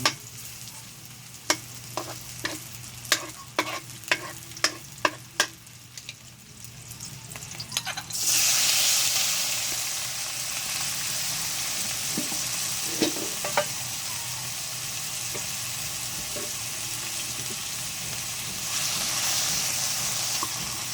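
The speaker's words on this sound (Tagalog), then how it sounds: "Caramelize lang natin itong kamatis para makuha natin yung pampalasa niya." Tomatoes caramelizing in a frying pan for ginisang tuyo: a steady, loud sizzle that comes in sharply partway through, after a run of clacking utensil stirs, and then holds strong to the end.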